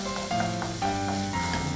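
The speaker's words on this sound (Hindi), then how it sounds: "और मैं डालूँगी इसमें प्याज बारीक कटे हुए, और इसे सिर्फ मैं 1 मिनट तक भून लूंगी।" Finely chopped onions sautéing briefly in a pan for Maharashtrian pitla, giving a steady sizzle with soft stirring scrapes, close and moderately loud.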